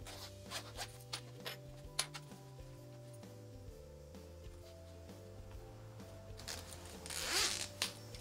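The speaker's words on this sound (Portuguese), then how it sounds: "Então a gente primeiro fecha o zíper" A zipper is closed on a sewn rounded-top pouch, giving quiet raspy zipping strokes with small ticks and handling rubs, ending in a louder burst of zipping near the finish.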